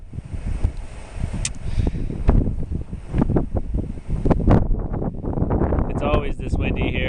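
Strong wind buffets the microphone outdoors in Aroostook County, Maine, with loud rumbling gusts and rustling throughout, and a person talks over it.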